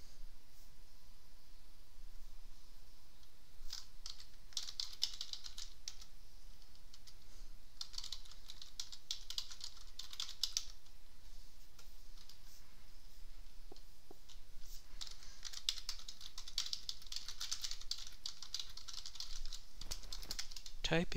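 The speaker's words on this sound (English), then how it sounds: "Typing awkwardly" Fingers tap on a computer keyboard in a lived-in home, coming in quick, uneven bursts of light clicks separated by brief pauses, soft and close against a steady faint room hiss.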